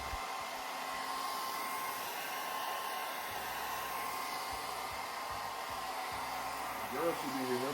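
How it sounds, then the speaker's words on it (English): A hair dryer blows steadily and close up while a quick weave is dried on 4C hair, a continuous broadband whoosh that lasts throughout, with a brief rise in pitch near the end. "and then blow dry."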